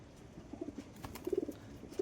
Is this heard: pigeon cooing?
yes